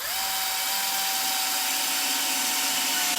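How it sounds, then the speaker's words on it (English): A power drill drives screws while a two-layer chick brooder is being assembled, a single steady high-pitched motor whir that holds close and loud for a few seconds. "Again, take your screwdriver or power drill."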